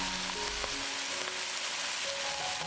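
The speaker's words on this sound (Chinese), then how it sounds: "再把煎好的鲈鱼放进来，" Pan-fried sea bass set into a hot wok with pickled ginger, garlic, chopped chili and bean paste, producing a continuous close sizzle and faint crackling spatter for the whole stretch, with no voices.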